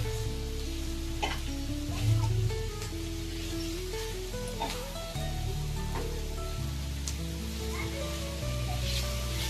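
Onions fry with spices in a pan, a steady sizzle and crackle under background music with scattered stirring clicks and scrapes throughout.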